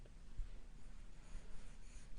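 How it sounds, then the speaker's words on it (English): A pencil scratches softly across paper during a live drawing session, faint and continuous, with light strokes and rubbing and no talk. "now I'm going to use my pencil to find the angle of the head tilt"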